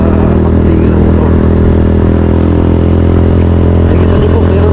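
A motorcycle engine running loud and close during a storm, a constant low rumbling drone that holds steady throughout without pauses.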